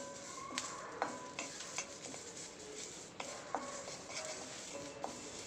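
Curry leaves roast and crackle in a pan for a sesame seed thuvaiyal, with steady sizzling broken by sharp pops and scraping stirs at close range.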